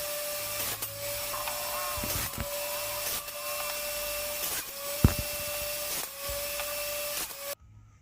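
A power tool cuts through wood up close: a steady high motor whine broken by repeated sharp cutting bursts, with no voices.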